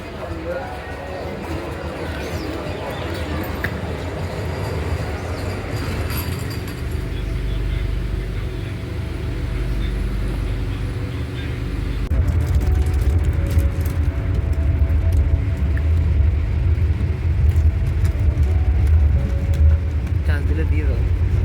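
A Vande Bharat express train arrives at Mandar Hill station with a rising low rumble that grows heavier and louder partway through, while a person talks over it on the platform.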